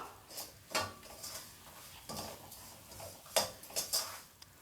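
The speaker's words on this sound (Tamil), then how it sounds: "இதை கிளறி விட்டுப்போம்" A spoon stirs dry idli podi, a spiced lentil chutney powder, in a metal pan, giving scattered close scrapes and clinks of utensil on metal with soft pauses between strokes.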